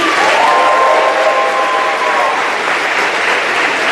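A crowd at an athletics awards ceremony applauds loudly and continuously, with a faint whoop of cheering rising early on over the steady roar of clapping.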